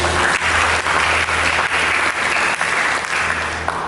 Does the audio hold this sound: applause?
yes